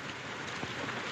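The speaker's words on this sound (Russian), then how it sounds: "И этот дождь." Steady rain falls in a dense, even patter close by, a continuous hiss with no voices over it.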